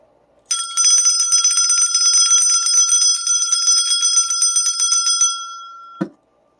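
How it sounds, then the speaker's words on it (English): A bell rings in a fast, continuous trill for about five seconds, bright and loud, then stops with a soft thud. "Here's bell 2."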